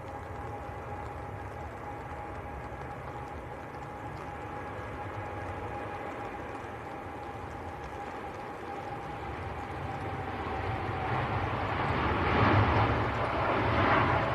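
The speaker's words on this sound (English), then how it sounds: "Here comes a TUI Dreamliner going out to Barbados." A TUI Boeing Dreamliner departing Manchester Airport, a steady distant jet roar with a faint whine that slowly swells louder toward the end.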